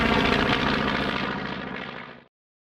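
Propeller bomber planes take off from an aircraft carrier deck. A loud, dense engine and propeller roar slowly fades, then cuts off abruptly near the end.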